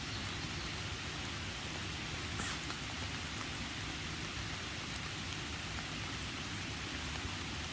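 Light rain falls steadily around a hammock camp sheltered under a tree, a soft, even patter and hiss that holds constant throughout with no voices.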